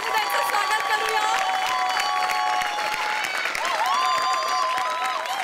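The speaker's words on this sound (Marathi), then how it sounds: "जोरदार टाळी द्यायचं स्वागत करूया" A studio audience at a Marathi TV comedy show bursts into sustained, dense applause, clapping continuously under a bright, prominent musical melody.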